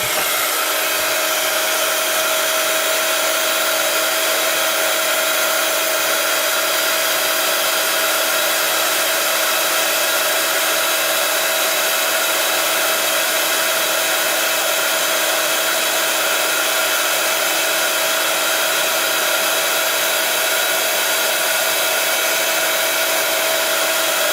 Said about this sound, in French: Je vais utiliser le head gun.